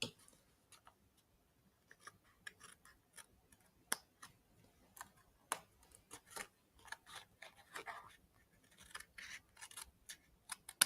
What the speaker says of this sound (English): grab our snips, and just snip off those little extra pieces we have going on right there